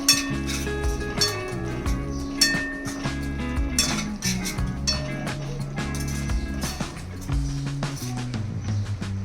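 A metal spoon stirs Malvani masala and salt in a pan for shev bhaji, with repeated close clinks and scrapes against the metal in an uneven rhythm, over a steady low background.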